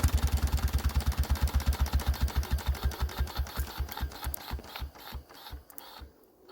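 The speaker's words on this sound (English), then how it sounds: "This engine needs a little bit of load on it." A Kohler Model S engine runs with an even, rapid chuffing beat that slows and fades toward the end as it is shut down, loud and close with no talk.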